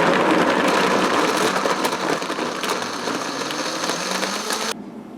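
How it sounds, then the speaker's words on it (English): A Vitamix blender runs hard on soaked almonds, water and dates, giving a loud, steady whirring roar for about five seconds before cutting off abruptly. "put them in the Vitamix with a quart of water and a couple dates, and then blend it up"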